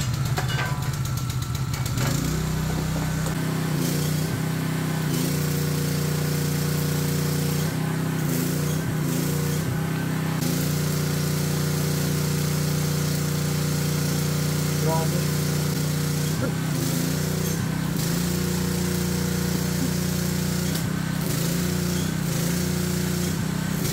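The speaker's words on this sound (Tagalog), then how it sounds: "gasoline generator" A PK160A inverter open-type gasoline welding generator runs close by, its engine holding a loud, steady hum and drone with small shifts in pitch throughout, while someone talks over it.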